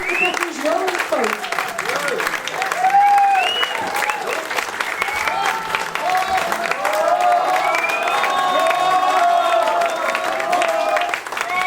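Audience clapping and cheering after a folk band's set in Manley Village Hall, steady applause with whoops and shouts layered over it, lasting throughout.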